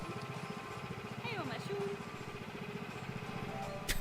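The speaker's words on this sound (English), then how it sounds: "I hear like an engine sound." A food truck engine idles in the Planet Zoo management game, a steady low pulsing drone that runs the whole time at moderate level, with a few brief chirping game effects laid over it.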